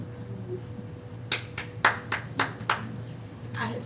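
A person claps about five times in a quick, uneven burst at a city council meeting in Florence. The claps are sharp and fairly close, over a steady low room hum.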